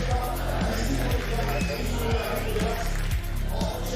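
A packed esports arena crowd roars steadily through a Valorant Champions 2022 playoff match between Fnatic and XSET, a dense, loud wash of cheering and babble with rhythmic thumping beneath it.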